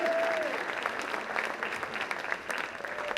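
Audience applause at a middle school 8th grade promotion ceremony: a short burst of steady clapping from a crowd that starts strong and thins slightly, with faint voices mixed in.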